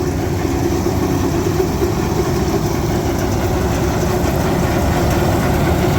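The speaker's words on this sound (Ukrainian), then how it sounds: "Ну що, запустили ми жатку, покрутили, все працює, все грає." Grain harvester header (zhatka) running steadily after start-up, a loud, even mechanical drone with a constant low hum and clattering machinery noise, no voices.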